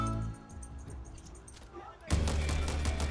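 Delta Force video game gunfire crackles in quick bursts, with a heavy, loud barrage of shots in the final second.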